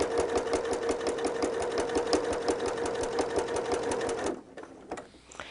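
A sewing machine fitted with a walking foot stitches through fabric in a fast, even mechanical chatter heard close up, then stops near the end, leaving faint handling noises.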